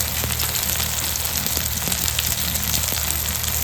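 Spices sizzle steadily in a pan for Bengali crab and potato curry, a continuous hiss with faint scattered crackles, close by and with no talking.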